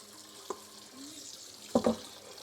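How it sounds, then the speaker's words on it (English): Water from a tap runs quietly into several containers, a soft steady stream with a couple of brief knocks and clatters of the vessels near the end. "We're gonna let all these fill up with some water."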